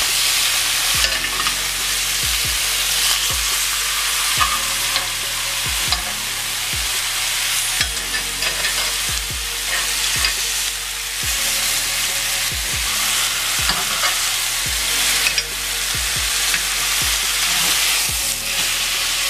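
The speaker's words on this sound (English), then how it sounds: "now we're just going to turn this over and brown it on the other side as well" Food flipped and browning in a hot frying pan gives a continuous sizzle, with a regular series of spatula scrapes and turns repeating about once a second, close and loud, with no talking.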